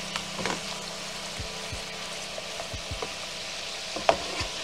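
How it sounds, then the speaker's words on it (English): Garlic shrimp sizzles and fries in a pan while being stirred, a steady crackling hiss broken by scattered scraping knocks from the spoon, close and moderately loud with no talking. "I'm going to stir this up a bit."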